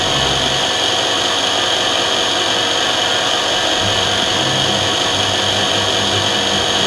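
A milling cutter spins on a Digital Vision drilling machine, giving a loud, constant whirring hum with a rough, grinding edge that never lets up.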